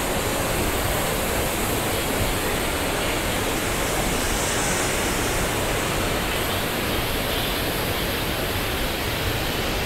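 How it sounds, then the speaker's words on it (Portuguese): The Cachoeira do Itapecuru waterfall pours in a constant, dense roar with an even hiss and no break across the whole stretch, and no one speaks. "E lá outra cachoeira."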